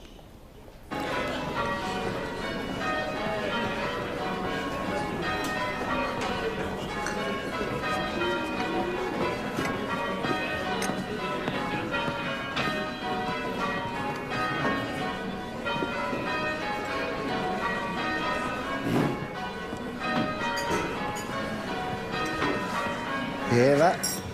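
Church bells rung by a team of bell ringers, a continuous overlapping peal of tolling bells with steady rhythm, heard at moderate distance throughout.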